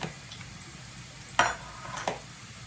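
Onion and garlic sizzle steadily in a hot pan, with a few sharp clinks and scrapes of a utensil against it.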